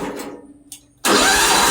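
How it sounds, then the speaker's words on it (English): Hudson sawmill engine cranks after a quiet pause and then catches, settling into a loud, steady running roar that fills the rest of the moment. "We're going to go ahead and get the mill fired up and let it warm up a little bit."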